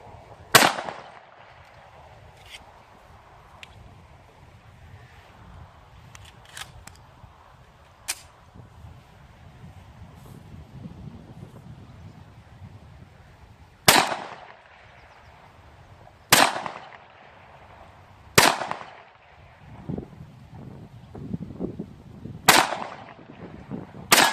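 Ruger SR1911 pistol in .45 ACP firing a magazine outdoors: sharp, loud reports spaced irregularly several seconds apart, with quieter pops and faint distant shots between them and no talking.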